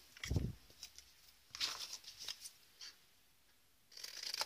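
Scissors trimming a paper flap off a folded gift bag album, a few short crisp snips and rustles, quiet and close, with pauses between cuts and no voices.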